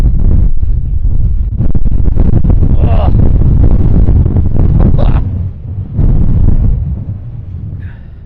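Strong wind gusts buffet the microphone at an exposed mountain lookout in the Blue Mountains, a loud sustained roar that surges and eases with a brief lull toward the end.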